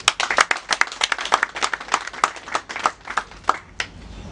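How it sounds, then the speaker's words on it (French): People at a municipal project presentation in Akanda, Gabon, clap together, a crisp round of individually distinct hand claps at a fairly quick, uneven rhythm that thins slightly toward the end. "je veux qu'on applaudisse encore pour elle"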